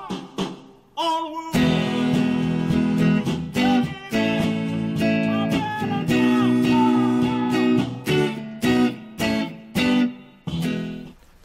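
Electric guitar plays the breakdown ending of a soul song, with punchy chord stabs separated by short gaps, loud and close with no voices.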